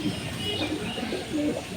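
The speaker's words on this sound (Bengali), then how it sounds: "এটি জনসন লাইনের একটি কবুতর" Racing pigeons of the Janssen line in a breeding loft in Tangail, cooing steadily at close range with low, throaty murmurs overlapping throughout, some faint chirps mixed in and a soft background hum.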